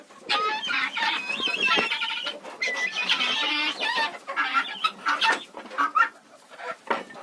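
Guinea fowl and chickens in a coop at night, startled by a light, give off a busy run of clucks, squawks and agitated calls from several birds nearby, fairly loud and continuous, with no talking.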